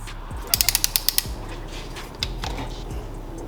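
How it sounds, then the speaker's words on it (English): A ratcheting torque wrench tightens cylinder studs on a Seadoo 951 personal watercraft engine, giving a quick run of close, crisp clicks before the ratchet swings are reset. "take your torque wrench and you're gonna torque it down to"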